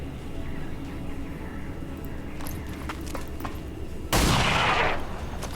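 Gunfire in the video game XCOM 2 during a flanking shot, a sudden loud burst of shots that rattles for about a second over a low background hum, preceded by faint clicks.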